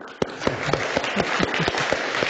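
A conference lecture audience claps for the event staff, with dense steady applause and a few sharper individual claps standing out, filling the room close by.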